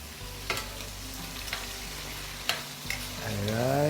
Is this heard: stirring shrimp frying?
yes